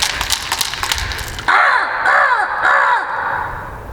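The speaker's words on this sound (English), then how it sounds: "Now the crows are mobbing up." Several crows call nearby, three loud, harsh caws spaced about half a second apart, cutting in over quieter outdoor background noise.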